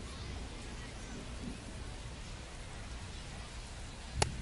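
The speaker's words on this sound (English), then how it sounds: "This rain is not letting up." Rain falls during a baseball game as a steady, even hiss of rainfall across the whole stretch, with a sharp knock just before the end.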